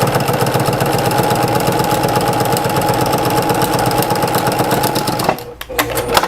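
Sewing machine running fast and steady while stitching a French seam with a quarter-inch seam allowance, a close, loud, even mechanical whir that runs for several seconds and then stops abruptly.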